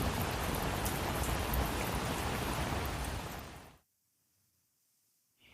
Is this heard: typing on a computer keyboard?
no